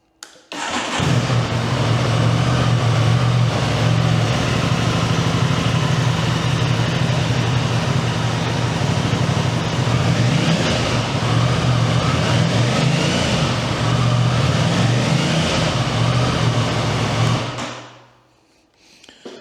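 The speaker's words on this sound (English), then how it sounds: "I'm going to try to get it started, see how it sounds" A 2024 Aprilia Tuono 660 Factory Edition motorcycle, rebuilt after a wreck, cranks and fires, then idles loud and steady with a deep throb for about sixteen seconds before the engine shuts off.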